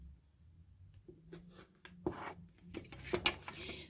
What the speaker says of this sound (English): now going to take this ruler and I can trim up exactly on the line.